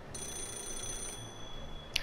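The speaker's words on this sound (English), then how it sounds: "Is this phone ringing?" A phone booth telephone rings in Yakuza 0, a thin, steady high-pitched ring held over a low, quiet ambient background, with no talk.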